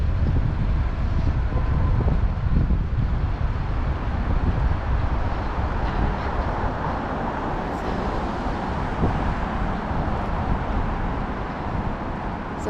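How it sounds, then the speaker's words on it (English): Wind blowing outdoors along Market Street in Philadelphia's Center City, a steady low buffeting rush across the microphone mixed with distant traffic rumble and no talking. "And it's windy and breezy."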